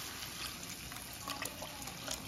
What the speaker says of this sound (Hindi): इसमें थोड़ा सा पानी ऐड कर देंगे।